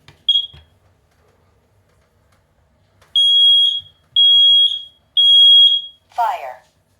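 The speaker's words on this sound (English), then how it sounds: "now we have the smoke alarm with the voice feature" A smoke alarm with a voice feature sounds off: a short loud beep, a pause, then three long loud tones in a steady rhythm, followed by a brief synthetic spoken alert, close by and clear.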